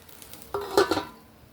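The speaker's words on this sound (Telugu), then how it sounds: "ఇంకొక నిమిషం మూత పెడదామండి మనము మగ్గేదానికి" A metal lid set onto a pot of cooking foxtail millet upma, a short clatter of a few clinks in close succession, lasting under a second, close and fairly quiet.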